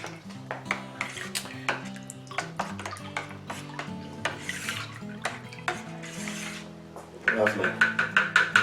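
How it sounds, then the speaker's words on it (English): Chardonnay wine kit mixture stirred gently in a fermenting bucket, with repeated soft clinks and swishing strokes in a steady rhythm, close by, a few brighter scraping knocks near the end. "we need to give that a good stir in as well"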